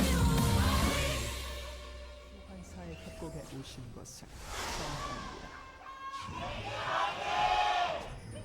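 A large arena crowd at an LCK esports match cheers loudly for Kingzone DragonX, with roaring swells at the start, around five seconds and near the end, mixed with a commentator talking.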